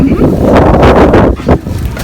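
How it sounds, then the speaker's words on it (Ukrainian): Strong outdoor wind buffets the microphone at a Vyshyvanka Day souvenir stall in Prague, a loud, rough rumble in gusts that overwhelms everything else. "І вітер не дає мені також знімати і вам, і вам продавати."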